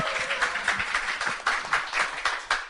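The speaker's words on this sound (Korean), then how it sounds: "큰 박수 좀 부탁드리겠습니다." An audience at a public broadcast panel on military policy claps for a law school professor, with sparse, distinct claps in a loose rhythm rather than a dense wash, and no talk.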